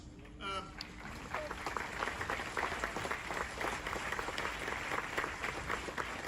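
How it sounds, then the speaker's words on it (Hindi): A university audience at a 75th Independence Day celebration claps for a special guest, a Major General, the applause starting after a brief voice and continuing as a moderately loud, uneven patter. "एक बार फिर जोरदार तालियां हो जाए हमारे अतिथि विशेष के लिए।"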